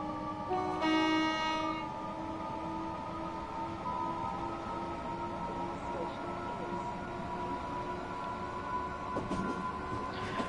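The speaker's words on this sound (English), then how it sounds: "we get to have realistic sounding trains like the 375" Class 375 electric multiple unit running in Train Sim World 6: a steady, continuous rail hum and rumble with sustained tonal drones throughout, a brief horn-like tone early on and a small clank near the end, with no talking.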